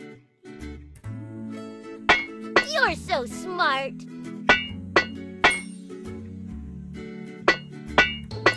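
Repeated metallic clinks of a hammer knocking dents out of a truck in a cartoon kids' repair game, sharp strikes in irregular bursts over a light musical tune, with a brief cheerful voice.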